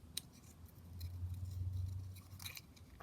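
Scissors snip through paper while paper flowers are cut out for junk journal clips, a few close, crisp cuts over a quiet background.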